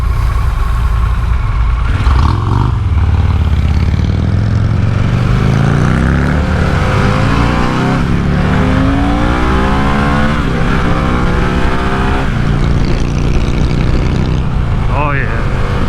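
Harley-Davidson Pan America CVO motorcycle accelerating hard along an open stretch of road, engine note rising through the gears with wind noise throughout, while a rider talks over it.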